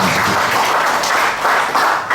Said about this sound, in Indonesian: Sekali lagi untuk Mas Atmo atas usahanya, tepuk tangan untuk Mas Asi Atmo.